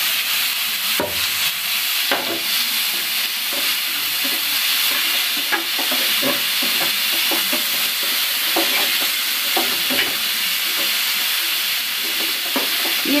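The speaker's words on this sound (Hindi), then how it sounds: "उसके मैं प्याज टमाटर और मिर्ची तीनों मैं एक साथ डाल दूंगी।" Onion, tomato and chili fry together in a hot pan with oil, giving a steady broadband sizzle and hiss broken by frequent scraping clicks of stirring throughout, close and loud with no talking.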